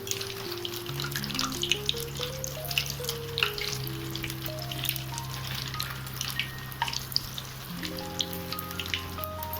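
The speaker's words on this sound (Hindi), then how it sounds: "चलिए बड़े को अब पलट देते हैं दूसरे तरफ से फ्राई होने के लिए" Vada fritters frying in hot oil crackle with a steady, bubbly sizzle and scattered light pops, fairly quiet, underneath a soft background melody.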